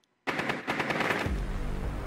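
Video game gunfire in Rainbow Six Siege: after a brief silence, a loud, rapid burst of automatic shots cracks out and then gives way to a dense sustained roar with heavy low-end rumble.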